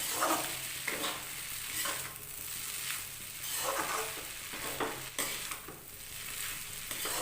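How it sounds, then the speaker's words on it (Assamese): Egg and chow mein are stirred together in a hot pan, a steady sizzle of frying broken by repeated scraping strokes of the spatula, close and alone. "কণীখিনি আৰু চাওমিনখিনি ভালকৈ মিক্স কৰি ল'ম।"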